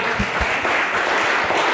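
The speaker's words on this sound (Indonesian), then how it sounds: "Boleh tepuk tangan sekali buat kita semua." Audience applause at a seminar on Christian marriage and prenuptial agreements, a brief burst of steady clapping filling the room from start to end.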